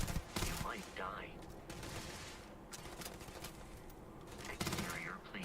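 Gunfire in the sci-fi game Starfield crackles in a loud burst at the start, then continues as a dense, ongoing fusillade with another sharp burst near the end, with voices present under the shooting.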